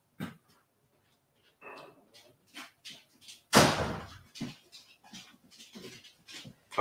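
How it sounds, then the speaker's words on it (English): A dog whines at a door and is let back in: soft scattered whimpers and breathing, a loud door slam or slide in the middle, then more faint shuffling and small sounds nearby. "because she's whining at the door"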